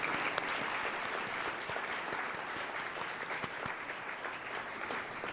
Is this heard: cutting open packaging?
no